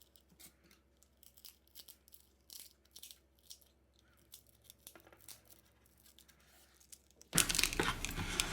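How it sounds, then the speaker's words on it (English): Broken screen being pried and peeled off a 2018 Samsung A6 phone, with soft crinkling and tearing scrapes at close range, ending in a sudden louder burst of crackling. "We remove the broken screen."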